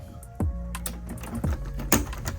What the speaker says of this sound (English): put our wire back on, put our keycap back on.